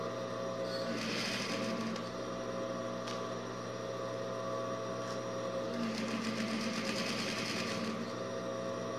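A sewing machine stitching a built-in pocket seam, running in a steady whirring buzz with short bursts of faster needle chatter, close and continuous.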